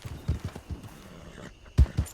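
A horse runs in the Red Dead Redemption 2 video game during a winter endurance race, its hooves making a quick, uneven series of soft clip-clop thuds close by, with a louder pair of hits near the end.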